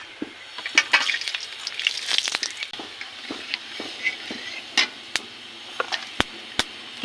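Whole garam masala of cinnamon, cloves, peppercorns and cardamom hitting hot oil for a mutton curry, a steady close sizzle broken by sharp crackles and scattered pops, with no talking.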